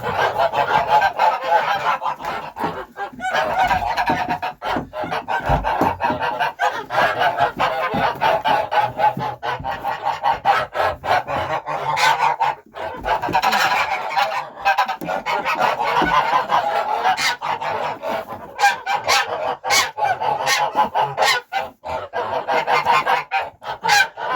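A flock of geese, just let out of their shed on a frozen farmyard in deep winter cold, honks loudly and continuously, many overlapping calls close by.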